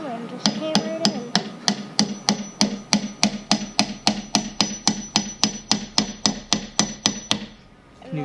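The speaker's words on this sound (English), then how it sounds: "We're going to take the hammer and just hammer it in." A hammer drives a glued wooden joint together on a 4x4 truss beam table, landing about twenty sharp, evenly spaced blows in a steady rhythm. The strikes are close and loud, with no talking.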